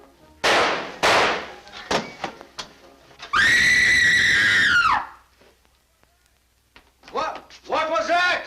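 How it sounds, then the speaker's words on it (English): A woman's piercing scream in a 1945 dramatic film scene, one long sustained cry following sharp bangs and thuds, with other voices breaking in afterward. "Who screamed?"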